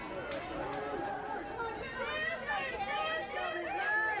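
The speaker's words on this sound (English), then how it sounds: "Mike is down there close to the Patriots dugout, so you hear their cheer and chatter" Members of a softball team chatter and cheer near the Patriots dugout at the ACEL championship game, a close, continuous babble of overlapping voices.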